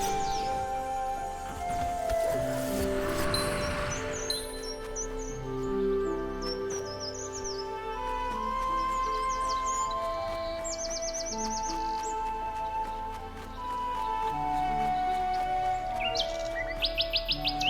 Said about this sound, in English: Those birds were just like screaming.